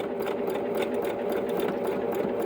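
A sewing machine stitching down a freezer paper appliqué whirs steadily and close, its needle ticking at an even, rapid pace throughout.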